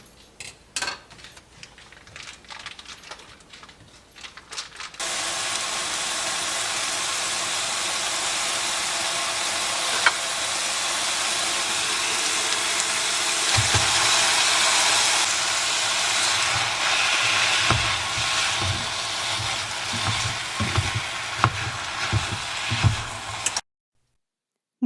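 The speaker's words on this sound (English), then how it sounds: "since these onions were previously frozen, I'm just going to give them a quick little cook before we throw in the meat" Previously frozen onions frying in a pan: after a few seconds of quiet clatter, a loud, steady hiss of sizzling takes over and continues, with occasional pops and crackles and soft stirring knocks, then stops abruptly.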